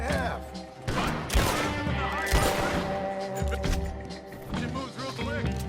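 Rapid gunfire crackles and bursts in Red Dead Redemption 2, with shots fired in loud clusters over busy game sound and other noise.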